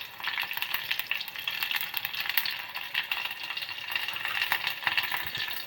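Cumin and mustard seeds crackle in hot oil with green chillies for a chickpea-flour dahi kadhi, a dense steady sizzle with fine popping throughout, close and even, no voices.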